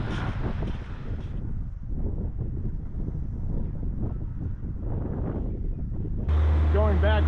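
Wind rushing over a microphone on an inflatable boat out on open water near a port entrance, a loud continuous buffeting roar with low rumble, ending in a sudden steadier burst of noise.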